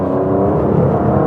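Aston Martin V12 Vantage, a 700 bhp V12, accelerating on a track, a loud, smooth, steady engine drone heard from inside the car across a short burst.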